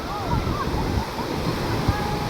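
Sea waves wash onto a beach at Marsa Matruh, a broad continuous rushing wash with soft surges, heard close and steady, with wind and faint voices in the background.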